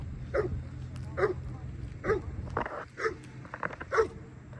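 A dog barks repeatedly in a steady rhythm, about one bark per second, medium distance, over a low rumbling background with faint voices.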